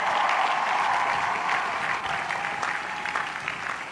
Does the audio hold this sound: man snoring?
no